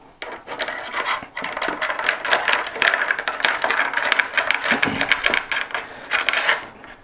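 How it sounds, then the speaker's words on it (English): A new-design clip slides along a rail at the bottom of a coffee table end panel, a run of close, scraping and ratcheting clicks rising and falling in bursts over several seconds. "It's got this new design clip that just slides into our rail at the bottom."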